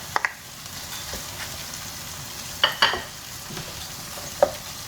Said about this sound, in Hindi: बस मैंने इस तरह चम्मच चलाया, सारा मसाला अच्छी तरह मिक्स हो गया।